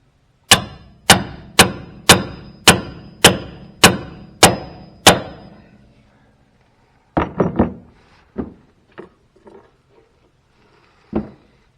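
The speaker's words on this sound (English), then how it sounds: "I'm just going to pound them in so they're out of the way of our brake lines." Nine evenly spaced, sharp hammer blows drive knurled control arm bolts into a 1964 Ford Galaxie during a disc brake upgrade, followed by a few scattered, quieter metallic knocks and clunks.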